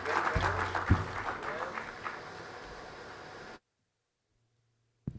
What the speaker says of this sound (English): let us give him another additional clap, kindly